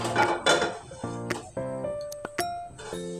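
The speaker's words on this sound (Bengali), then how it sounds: "এবার আমি কি করবো ওভেনে বসিয়ে দেবো একটু কড়া" A metal wok (kadai) is set down on a gas stove in a home kitchen, giving a few close, ringing clanks and clinks of metal against the burner grate, with short pauses between them.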